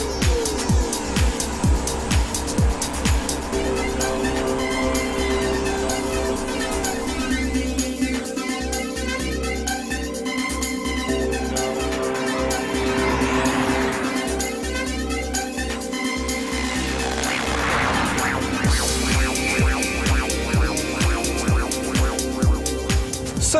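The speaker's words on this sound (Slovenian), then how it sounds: "Saj ima zmogljiv 3-litrski dizelski agregat 170 kW, ki res dobro vleče in mu zlepa ne zmanjka moči." Car powered by a 3-litre 170 kW diesel engine driving steadily, with a continuous low drone and rolling road noise. Pitch shifts gently as speed changes, heard from close by with no voices.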